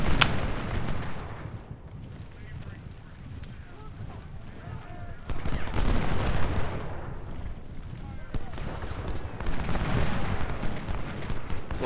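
Musket volleys and artillery from an Ultimate General: Civil War battle at Fort Blood, dense rolling gunfire bursts that swell and fade in loud waves, with someone talking over the din.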